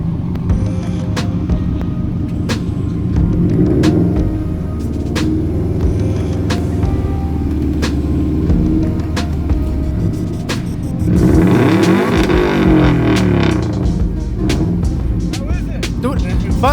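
Hyundai Tiburon exhaust revving and accelerating in a busy car setting, with a steady loud engine drone, repeated sharp blips and a rising surge near the end, people talking over it.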